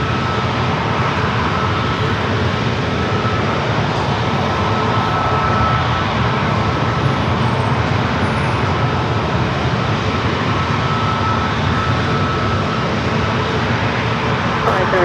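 Airliner taking off from a San Diego airport runway: a steady, loud, broadband jet roar holds throughout with no breaks, with faint radio chatter beneath it.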